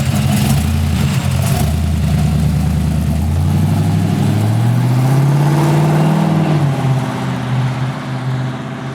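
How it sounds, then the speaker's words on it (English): A car's engine runs steadily close by on a short shakedown drive after shifting into drive, then revs and climbs in pitch midway before settling back, loud and with no talk over it. "He's going to take it on a little shakedown run, see what happens, make sure it shifts"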